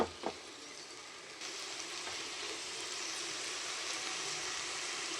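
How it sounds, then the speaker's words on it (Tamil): Okra frying in a pan with turmeric, chili powder and salt gives a steady, close sizzle after a couple of brief clinks at the start, with the hiss growing slightly louder. "நல்லா மிக்ஸ் பண்ணிவிட்டு கொஞ்ச நேரம் ஒரு 1 or 2 minutes நல்லா ஃப்ரை பண்ணிவிட்டு நம்ம இதை எடுத்துடலாம்."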